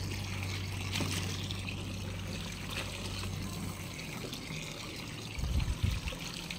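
Lotus tubers being washed by hand in a container of clean water, with a steady soft trickle and slosh of water throughout and a brief louder splash near the end.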